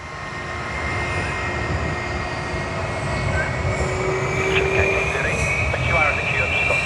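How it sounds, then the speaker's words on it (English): A Singapore Airlines Airbus A350-900 airliner rolls out after landing at Sydney, its engines producing a loud roar with sustained whining tones that builds slightly, while people talk over it. "A350-900 of Singapore Airlines"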